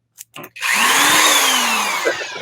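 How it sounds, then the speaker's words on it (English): A power drill whirs loudly and steadily close by for about two seconds, driving its bit into a stack of trading cards, after two brief knocks at the start. "This time my drill bit was good."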